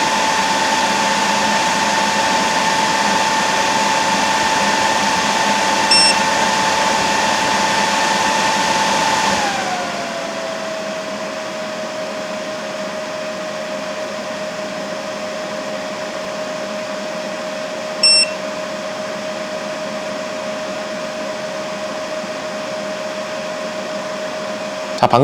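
An all-in-one power bank whirs steadily while charging at 1200W, then at 600W and 200W. The fan hum drops to a lower, quieter pitch partway through and holds there, close to the microphone, with no speech.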